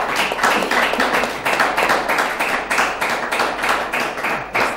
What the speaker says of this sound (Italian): volevate far partire un applauso.